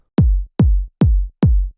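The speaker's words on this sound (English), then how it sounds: "The main kick that I used in this track is a little bit more of a housey kick" House-style main kick drum sample from a modern trance track, four punchy, deep hits evenly spaced with a booming low tail, played alone.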